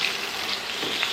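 Fresh beans fry in a pan with a steady, close sizzle, a short continuous hiss with no break and no voices.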